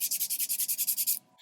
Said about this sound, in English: I'm actually going to go with my drill for this because it'll be much faster.